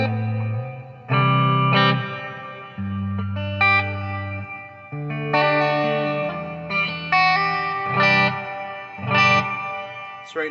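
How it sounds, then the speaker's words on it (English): A Les Paul electric guitar rings out chords and notes through distortion and chorus effects, sustained and fairly loud, with pauses between phrases and no talking. "I've got my Les Paul plugged in, clean channel on the neck pickup."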